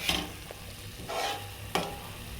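Prawn ghee roast sizzles in a pan as a spoon stirs it, with a few distinct scraping strokes over a steady frying hiss.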